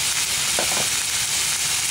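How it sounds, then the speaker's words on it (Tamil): Tomatoes go into a hot frying pan of lamb spleen fry, giving a loud, continuous hissing sizzle with a brief burst of stirring clatter partway through. "கூடவே வந்து நம்ம தக்காளியும் போட்டுக்கலாம்."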